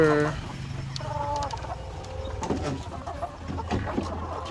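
Hens cluck around a backyard laying nest, with several clucks and calls scattered over steady outdoor background noise and no clear talking.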